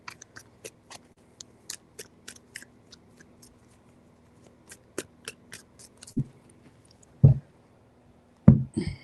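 A deck of tarot cards is shuffled in short crisp riffles and taps, a steady run of light snaps followed by a few louder bursts of card shuffling, heard alone in a quiet room.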